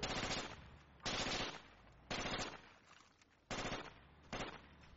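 Machine-gun fire in a military video game comes in five short, sharp bursts about a second apart, fairly faint and distant, with quiet gaps between them.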